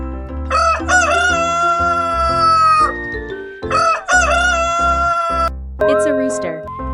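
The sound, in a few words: rooster crowing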